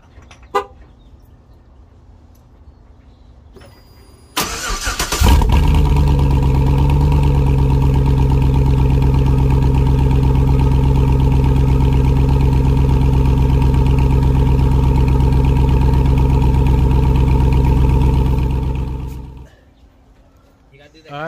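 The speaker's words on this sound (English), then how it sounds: "that was my no muffler, no resonator cold start" A Chevy Tahoe with a straight pipe exhaust, no muffler or resonator, cold starts after a few quiet seconds with a sharp crank into a loud, deep, steady idle rumble that runs about fifteen seconds before shutting off.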